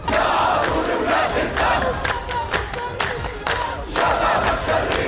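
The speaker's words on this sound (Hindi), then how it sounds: "लोग तालियां बजाकर नारे लगाने लगे।" A protest crowd in the streets of Ramallah claps and chants slogans together, loud rhythmic massed voices over steady clapping, with crisp hand-claps cutting through the dense noise.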